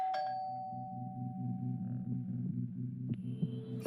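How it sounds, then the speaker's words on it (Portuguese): A doorbell rings late at night with a steady pulsing buzz that carries through the clip, then ends with a brief ding. "Acho que foi no dia seguinte, quando a campainha tocou."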